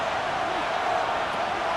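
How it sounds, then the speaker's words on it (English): Stadium crowd in Madden NFL 26 roars as third down approaches, a steady, dense wash of cheering voices with no breaks, fairly loud and continuous. "This crowd into it now as we get to 3rd down."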